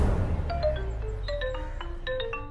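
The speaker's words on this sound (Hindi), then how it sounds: "ऑफिस से फोन आया है बेटा।" A phone rings with a bright electronic ringtone of short, repeated melodic tones, heard fairly clearly over low background hum in a dubbed action film's home scene.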